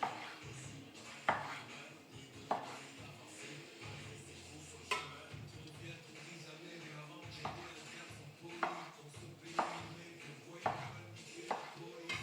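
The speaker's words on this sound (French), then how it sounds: "Donc on la coupe en tronçons de 2 bons centimètres." A knife slicing sausage into thick chunks on a board, a series of sharp taps at irregular intervals with soft clinks, quiet background and a voice talking now and then.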